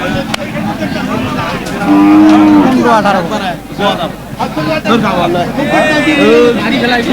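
Cattle low and moo at a busy village cattle market at Dariyapur haat, a drawn-out close moo standing out amid loud crowd chatter and bargaining voices.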